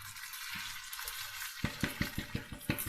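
Washed rice goes into a pan of frying orzo vermicelli over a steady sizzle, then a run of rhythmic scraping strokes as it is stirred, close and fairly quiet.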